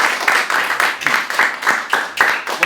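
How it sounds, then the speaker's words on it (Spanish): A seated audience applauds a guest at a writing workshop, the clapping steady and dense for a few seconds with a rhythmic swell and dip, fairly close and alone without talk. "vamos a darle otra vez un aplauso a Luis Carlos."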